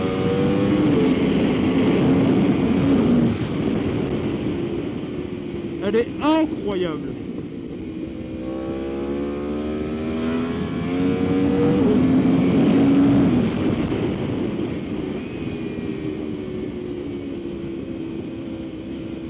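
A Yamaha R1 sport motorcycle revs and downshifts, its engine rising and falling in pitch with sharp blips mid-run, heard up close under wind rush while someone talks briefly.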